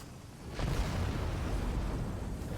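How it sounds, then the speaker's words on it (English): A behemoth boss explodes on death in a video game trial: a broad, rumbling blast swells in suddenly and holds as a dense, roaring wash for about two seconds, with no voices. "Here comes his explosion."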